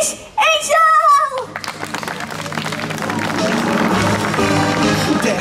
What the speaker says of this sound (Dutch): Geef hem een heel groot applaus.